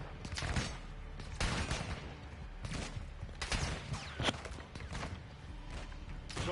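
Bursts of gunfire in Call of Duty Modern Warfare 2 on PS5, repeated sharp shots and thuds spaced irregularly amid battlefield noise, fairly close and loud, with no clear talk over them.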